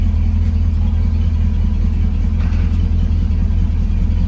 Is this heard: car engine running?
yes